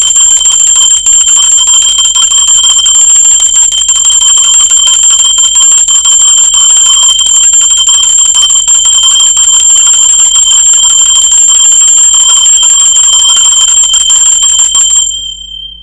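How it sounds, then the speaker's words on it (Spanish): A bell rings with a sustained, bright metallic tone that holds steady and loud for about fifteen seconds before cutting off. "Va campana."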